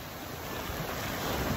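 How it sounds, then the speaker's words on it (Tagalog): Sea waves at Guinsularan beach in Duero, Bohol, a steady rushing wash of surf mixed with wind noise on the microphone, fairly faint and continuous. "Bawod-bawod po dito ngayon sa amin."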